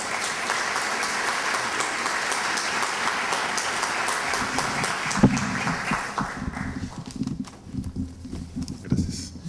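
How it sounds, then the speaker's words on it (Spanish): Audience applause at a formal civic anniversary ceremony in a municipal hall, loud dense clapping from a large crowd that thins out near the end as a few voices and shuffling emerge. "Las palmas para él"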